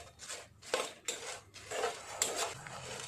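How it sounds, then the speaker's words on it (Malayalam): Cumin and other spices are stirred in a hot pan after the stove is switched off, and a metal spoon scrapes and clinks against the pan in quick irregular strokes, close and fairly quiet. "സ്റ്റവ് ഓഫാക്കിയതിന് ശേഷവും ഇതേപോലെ ഇളക്കി കൊടുക്കുക"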